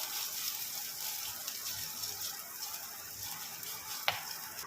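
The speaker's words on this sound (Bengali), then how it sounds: "ভালো করে ভেজে নেব। আর আঁচও কমিয়ে দিয়েছি যাতে পুড়ে না যায়।" Green chillies and ginger frying in a pan over low heat, a gentle continuous sizzle close by with a single sharp utensil tick near the end.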